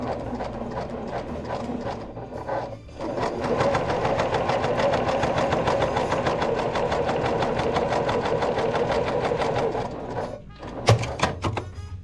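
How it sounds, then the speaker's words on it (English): A sewing machine runs steadily for several seconds with a rapid mechanical whir, pausing briefly, then stops with a few clicks near the end. "So I'm going to take this over to the sewing machine"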